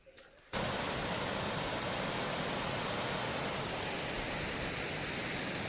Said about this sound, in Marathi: हे धरणाचं पाणी येतं इथं